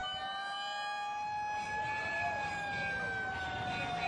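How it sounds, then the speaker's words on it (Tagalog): Fire truck sirens wail together in Manila before the New Year, sounding as a warning against setting off firecrackers. Several overlapping tones rise and fall steadily, moderately distant over street noise. "kasama mga fire truck na nagpatunog ng kanilang sirena"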